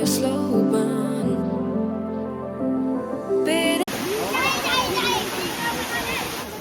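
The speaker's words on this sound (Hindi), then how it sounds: "तो भाई ये है नीर वाटरफॉल 1" A steady, full roar of falling water at Neer waterfall near Rishikesh fills the second half, loud and close, after a stretch of music at the start.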